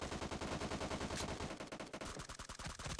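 Rapid automatic gunfire in PUBG Mobile, a dense burst of loud close shots in quick rhythm that stutters into separate cracks toward the end, no voices.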